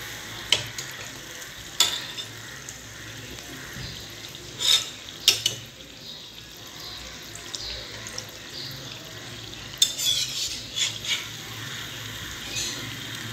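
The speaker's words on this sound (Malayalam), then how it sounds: "തിരിച്ചും മറിച്ചും ഇട്ടിട്ട് വേണം നമ്മളിതൊന്ന് ഫ്രൈ ചെയ്തെടുക്കാൻ" Unnakkaya, a Malabar plantain snack, frying in hot oil, with a steady low sizzle under occasional sharp clinks and scrapes of a utensil against the pan.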